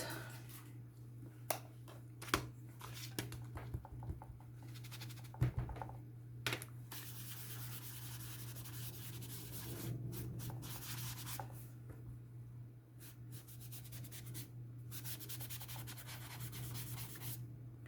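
Red pen writing on a journal page, with soft, close scratching strokes in irregular bursts and occasional light taps over a faint steady hum.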